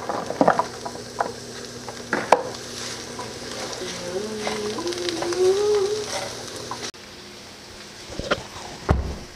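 Vegetables being stir-fried in a pan for kung pao shrimp, with a steady close sizzle and occasional scraping stirs and sharp clatters of utensil on pan, plus faint tonal sounds in the background.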